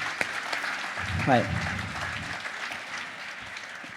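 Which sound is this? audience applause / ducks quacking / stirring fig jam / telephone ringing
audience applause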